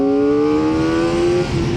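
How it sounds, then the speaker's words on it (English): A Kawasaki Ninja ZX-4RR motorcycle engine screams at high revs, a loud, steady, close whine that climbs gently in pitch for nearly two seconds before easing slightly at the end. "you do have to get this engine screaming"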